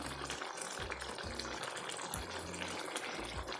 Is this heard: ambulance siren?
no